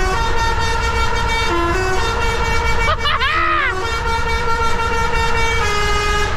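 A truck's musical air horn plays a tune inside a tunnel, a loud melodic run of tones over steady engine and road rumble, with another vehicle's horn sounding nearby.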